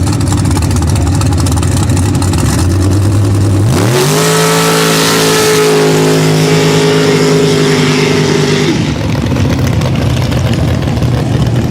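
A big mud bog truck named Copperhead roars as its engine revs hard, rising into a sustained high-pitched wail for several seconds before dropping back, loud and close over a noisy outdoor crowd.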